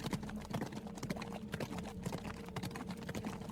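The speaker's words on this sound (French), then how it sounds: "des chevaux arrivent sur place" Horses trot in a steady clip-clop of hooves, a sound effect for a French tabletop RPG scene where a group of armoured riders approaches. The hoofbeats are close and continuous, with no talking over them.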